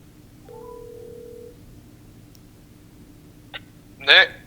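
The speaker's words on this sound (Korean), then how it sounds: "전화 연결 한번 해보도록 하겠습니다." A telephone call is placed, with a steady dial tone and a few short clicks, then a burst of ringing near the end, quiet and thin as if heard over the line.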